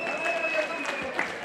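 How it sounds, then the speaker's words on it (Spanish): Crowd cheering and clapping for a boxer at a rural ranch-style boxing event in Zacatepec Mixe, Oaxaca, with outdoor crowd noise and a loudspeaker voice over it, short and busy. "¡Ese aplauso!"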